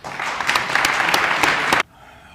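A crowd at a mock trial of Napoleon applauds Prince Joachim Murat, giving a short burst of dense clapping that stops abruptly and leaves near silence.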